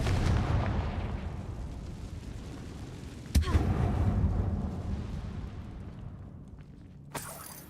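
A Confringo blasting spell explodes in Hogwarts Legacy: a heavy booming blast that rumbles and decays over several seconds, followed by a sharp crack mid-way and a fainter pop near the end.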